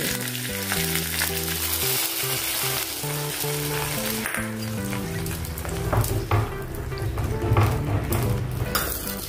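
Dry red chillies and curry leaves sizzle hard in hot oil for a South Indian rasam tempering, a loud, continuous crackling fry that swells near the end, with a steady musical background underneath and no talking.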